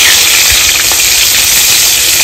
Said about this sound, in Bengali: এদিকে তেল গরম হয়ে গেছে, আমি মাছগুলো ভেজে নেব।